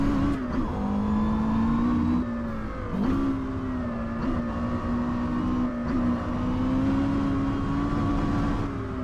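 In a racing video game, a Porsche Carrera GT's V10 engine holds under throttle with a steady, strong howl and brief dips at gear shifts, loud and continuous with no one speaking.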